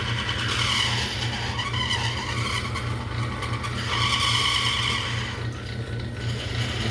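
A harmonica slider for a Seydel Saxony is shaped by hand against a spinning lathe, giving a steady, close scraping hiss over a constant low motor hum, with no talking.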